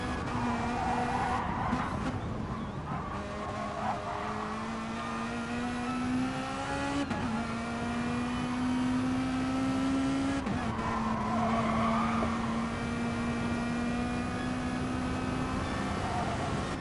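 Race car lapping the Bathurst circuit, its engine a sustained loud whine that climbs and drops with gear changes and braking, heard continuously with no talk.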